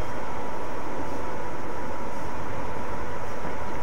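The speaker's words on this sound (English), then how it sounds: "Do a couple train bys real quick." In Train Simulator 2014, a train on the West Coast Main Line over Shap rumbles past with a dense, continuous roar of wheels and engine, loud and close throughout.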